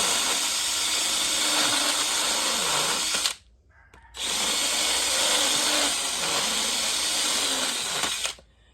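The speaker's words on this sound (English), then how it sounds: "So all I have here is just a standard deburring bit, nothing special." A power drill with a standard deburring bit grinds away debris around a broken exhaust manifold bolt, two long loud steady whirring runs separated by a brief pause, close up with no talk.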